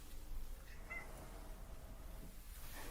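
A cat calls out at a closed door with a couple of short, faint meows over quiet room hiss, and nobody speaks.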